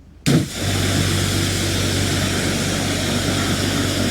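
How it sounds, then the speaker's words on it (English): A pressure jet washer starts abruptly and runs continuously while rinsing a Rover P6 3500S car, a loud steady motor drone with a hissing spray close by. "Right, okay, let's rinse."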